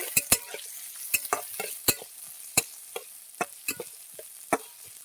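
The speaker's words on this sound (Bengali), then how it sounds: "পেঁয়াজ কুচি দিয়ে দেবো। লাল লাল করে পেঁয়াজটা ভেজে নেব।" Chopped onion fries in a hot pan with a steady soft sizzle, punctuated by a dozen or so sharp, uneven clicks and scrapes of a spoon stirring, close and alone.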